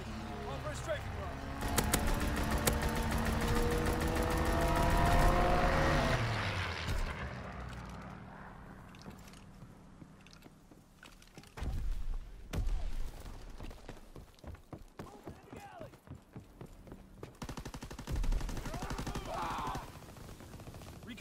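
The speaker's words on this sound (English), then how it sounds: "Fighter aircraft ready. On for a strafing run." A fighter plane roars in on a strafing run in Call of Duty WWII, its engine swelling loudly before rattling machine-gun bursts and scattered shots follow, with game voices heard among the gunfire.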